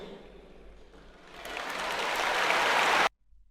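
A crowd at a Viva 24 political rally breaks into applause that swells from scattered clapping into a loud, dense roar of hands, then cuts off abruptly.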